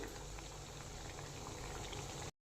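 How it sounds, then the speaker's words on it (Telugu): A covered pot of small-fish curry bubbles at a steady boil, a dense continuous simmering hiss up close that cuts off abruptly at the end. "మూత క్లోజ్ చేసుకొని బాగా ఉడకబెట్టుకుందాం దీన్ని"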